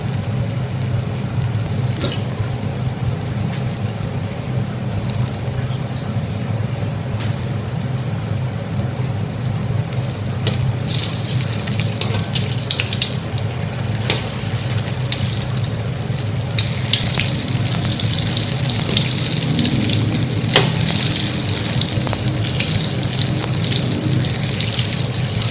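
Suzhiyam sweets deep-fry in hot oil with a dense, steady crackling sizzle like rain on a surface, close and unbroken, growing slightly busier toward the end, with no talking.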